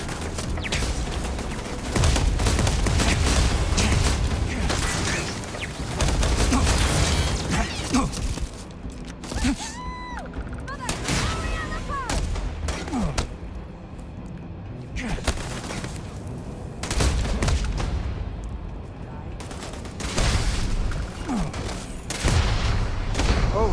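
Turret fire in the space game Starfield, dense bursts of rapid gunfire and booms rising and falling over several seconds, loud and close, with a few quieter stretches of electronic tones and game effects between volleys.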